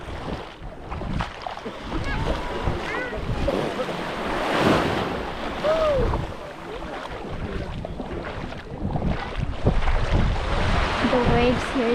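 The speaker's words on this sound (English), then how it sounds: "The waves here is a bit crazy." Surf washing onto the beach at Koh Lanta, Thailand, a steady broadband wash of rolling waves with wind noise on the microphone and occasional faint voices in the background.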